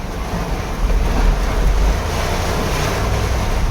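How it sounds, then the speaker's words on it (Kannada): Strong wind roars and buffets steadily, a dense rushing noise with no voices. "ಮಳೆ ಬೇಡ, ಗಾಳಿ ನೋಡ"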